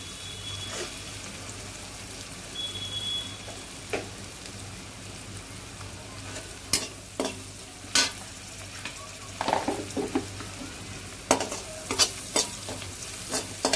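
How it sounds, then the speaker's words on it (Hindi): Onions fry in a pan with salt and turmeric, giving a steady low sizzle under sharp scraping strokes of a spoon that grow more frequent toward the end. "प्याज फ्राई हो चुके हैं"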